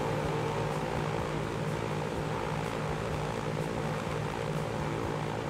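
A Lockheed propeller airplane drones steadily in the Transport Fever 2 video game, a loud continuous engine hum and airscrew buzz with no talking.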